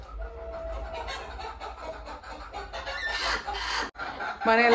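Chickens cluck close by in a home setting, a run of repeated short clucks with louder squawking calls toward the end, over a low background hum.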